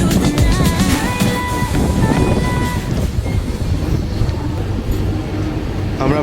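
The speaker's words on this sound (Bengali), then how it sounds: "স্পিড বাড়িয়ে দিল, হু করে ছুটে চলেছে।" A Mumbai local train nearing Panvel runs at speed with a loud, continuous rumble and rattling wheel clatter close by, and faint music rides over it at the start.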